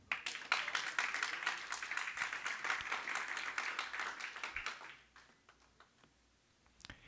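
A church congregation claps in a dense, lively burst for about five seconds, then it thins to scattered faint claps and quiet room noise, with a few louder claps at the end.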